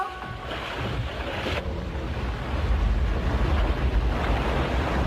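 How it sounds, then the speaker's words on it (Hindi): A sailing ship moves slowly over ocean waves in an animated film, heard as a steady wash of surf and wind that swells slightly louder partway through, with no speech. "ये जहाज कितनी धीरे चल रहा है।"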